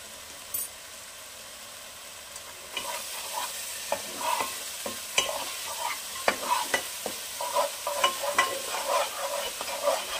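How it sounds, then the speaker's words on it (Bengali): Spice paste for a cauliflower curry frying in a pan, with sizzling and repeated scraping strokes of a spoon that start after a quiet opening and grow busier and louder, close up. "এই মশলাটা একটু কষবে, তারপরে আমি মেশাবো পরের উপাদানটা।"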